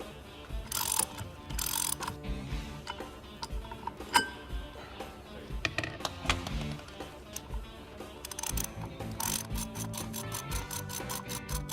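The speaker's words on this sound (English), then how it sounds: "Now unscrew the fan mounting disc from the jack bolt" A Horton fan mounting disc is unscrewed from a jack bolt, giving close metallic ratcheting and clicking with scattered clanks, ending in a quick run of rapid ticks.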